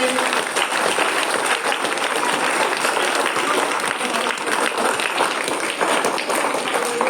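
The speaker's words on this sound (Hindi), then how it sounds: "विकास भैया के लिए ताली ज्यादा हो जा रही हो क्या?" Audience clapping steadily for Vikas Prajapati at a child abuse awareness campaign event, a dense, continuous round of applause from a crowd, fairly loud and sustained throughout with no one speaking over it.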